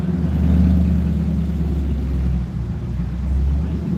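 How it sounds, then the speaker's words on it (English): Street traffic beside a coastal road, a continuous low rumble of passing vehicles swelling and fading, with wind buffeting the microphone and no voices. "Sorry for the traffic noise"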